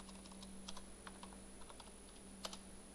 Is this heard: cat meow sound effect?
no